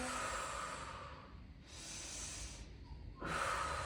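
Slow, deep breaths during a gentle yoga session, with a long inhale and exhale alternating as soft airy hiss, fairly close and quiet, without talk.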